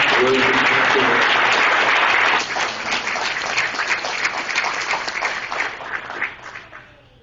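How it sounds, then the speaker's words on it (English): Round of applause at a county party award dinner and bean supper, loud dense clapping for about two seconds that then tapers off into scattered claps and murmuring voices. "let's give them a round of applause for putting this together"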